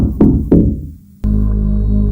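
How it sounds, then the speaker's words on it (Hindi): Two loud, hollow knocks land in quick succession on a closed room's door, followed by a low, steady droning hum. "अंदर से 3 बार जोर से ठक ठक ठक हुई।"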